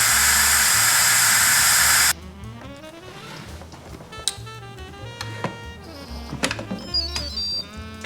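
A pressure cooker holding pozole vents steam in a loud, steady hiss for about two seconds, then cuts off abruptly, leaving quiet kitchen clatter and faint clicks.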